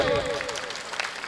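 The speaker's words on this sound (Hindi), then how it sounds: "आपकी इच्छाओं के लिए आप तालियां बजाएं।" Crowd applause at a religious gathering with saints and scholars seated, clapping rising just as a voice trails off at the start, then a brief, dense patter of hands.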